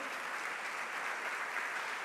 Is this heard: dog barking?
no